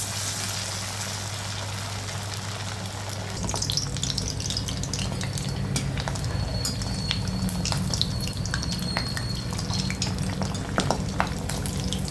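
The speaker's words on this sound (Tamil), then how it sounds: "வடை இந்த அளவுக்கு நல்லா ஃப்ரை ஆகிடுச்சு" Masala vada deep frying in hot oil gives a steady, dense sizzling hiss that swells after a few seconds and keeps going with scattered pops and crackles, fairly close and with no voices.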